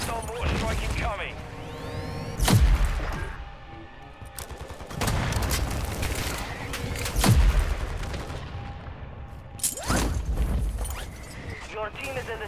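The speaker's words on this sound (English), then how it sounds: "Hostile mortar strike incoming." In Call of Duty: Modern Warfare II, a mortar strike brings several heavy booming explosions spaced a few seconds apart, each loud and close, amid ongoing gunfire and battlefield noise.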